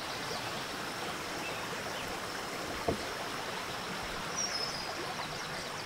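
A stream flows beneath a footbridge on a river-crossing trail, giving a steady, moderate rushing wash of water with a brief faint knock partway through and no talking.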